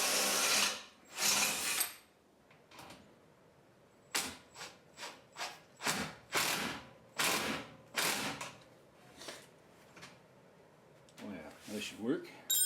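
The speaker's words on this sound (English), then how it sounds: "So I need to drill a hole here." A power drill whirs close by in a series of short bursts while drilling a hole in a mini camper, starting and stopping repeatedly with brief pauses between.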